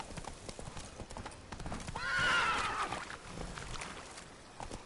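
In The Witcher 3: Wild Hunt, a horse gallops with rapid, rhythmic hoofbeats and lets out a loud whinny midway, the clopping continuing steadily around it.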